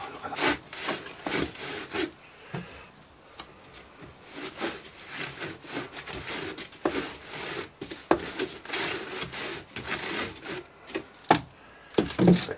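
Sand is shaken through a riddle onto a casting pattern in a foundry mould, giving a close, steady scraping and shuffling rhythm of repeated strokes, with no voices.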